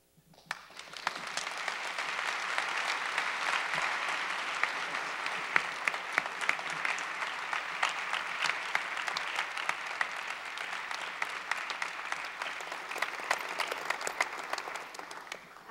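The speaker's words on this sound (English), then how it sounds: "Let's give him another round of applause." An audience gives sustained applause for the CEO of Crocs, a dense steady clapping that swells in quickly and continues evenly at moderate distance, with no talk over it.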